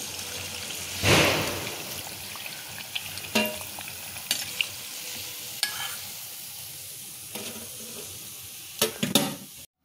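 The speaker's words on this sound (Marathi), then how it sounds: "मंद गॅसवर आपल्याला ही अशी छान तळून घ्यायची आहे." Chole tikki cutlets frying in oil over a low gas flame, a soft steady sizzle with occasional louder spatters and light clinks of a utensil, close and unaccompanied by speech.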